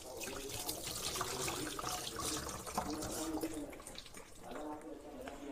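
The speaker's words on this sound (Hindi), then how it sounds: "पम्पकिन को हम धो देंगे अब आराम से।" A pumpkin being washed under a running tap in a home kitchen sink, with a steady rush of water splashing continuously beneath a person talking.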